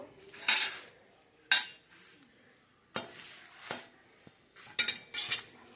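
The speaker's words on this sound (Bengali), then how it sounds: "এখন আমি মাছটা আগে কেটে নেবো" A large aair fish being cut and handled with a metal utensil in a kitchen, giving sharp scattered clinks and scrapes of metal on dish, several separate bursts with quiet gaps between.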